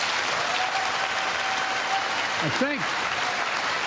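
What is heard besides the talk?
crowd applauding at the State of the Union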